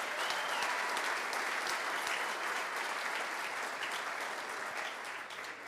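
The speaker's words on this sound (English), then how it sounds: "let's give him a round of applause" An audience at the Missouri Athletic Club's Hermann Trophy awards gives a sustained round of applause, dense, even clapping that holds strong before easing slightly at the end.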